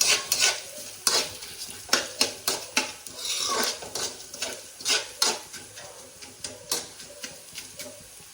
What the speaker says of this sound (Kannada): ಗರಂ ಮಸಾಲೆ ಸಾಮಾನು ಕೊತ್ತಂಬರಿ ಕಾಳು ಇದೆಲ್ಲವನ್ನು ಮಸಾಲೆ ಫ್ರೈ ಮಾಡಿ